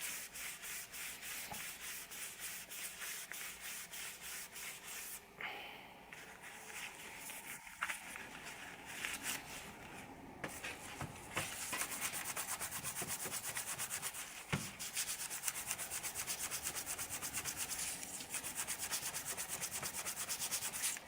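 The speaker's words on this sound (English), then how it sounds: "we can now use a pad, such as a steel wool pad, to clean this up thoroughly" A steel wool pad scrubs a brake caliper piston in rapid back-and-forth strokes, giving a close, continuous abrasive rasping that pauses briefly partway through and then resumes slightly louder.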